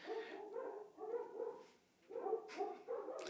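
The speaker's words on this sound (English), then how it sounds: "And the dogs are barking." German Shepherd dogs barking in repeated bursts somewhere nearby, loud and continuous across a few seconds with a short pause in the middle.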